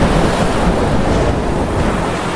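Loud, dense storm surf with howling wind roars steadily and close, a continuous wash of crashing waves without any break.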